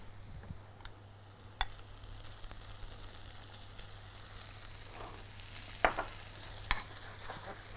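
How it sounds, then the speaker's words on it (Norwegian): Apples and prunes fry gently in a pan of melting butter with lemon and sugar, a soft steady sizzle with a few sharper crackles and pops near the end and no one talking. "Nå smelter smøret sammen med sitron og sukker her"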